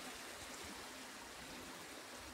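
A mountain river flows, heard from a balcony as a constant broadband rushing hiss, steady and unbroken throughout, with no voices.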